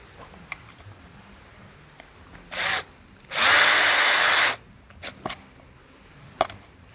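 Power drill driving threaded screws into a wooden board that holds a privet bonsai's roots flat: a short whir, then a longer steady whine of about a second, with faint clicks and taps around it.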